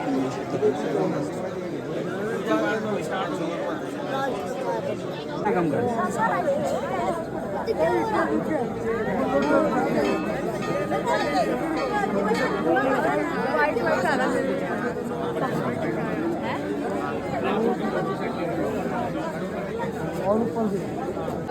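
Dense crowd of pilgrims at Kedarnath temple, a loud, continuous babble of many overlapping voices close around, steady throughout.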